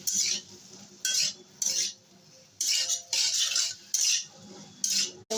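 A spoon stirs fish soup with turmeric and salt in a pan, giving bursts of metallic scraping and clinking separated by short pauses, close and clear.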